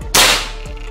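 One loud, abrupt discharge from a Predator 460cc full-CNC PCP air rifle, a crisp crack that fades quickly, heard on its own without talk.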